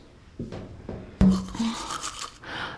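A toothbrush scrubs close to the microphone, in short bursts of bristly scraping and brushing strokes, with a louder stretch partway through.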